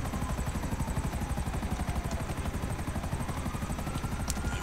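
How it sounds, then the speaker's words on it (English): Helicopter rotors in Grand Theft Auto Online gameplay, a loud, continuous rapid chopping beat that holds steady and close for the whole stretch. "Oh, there's two helicopters after you."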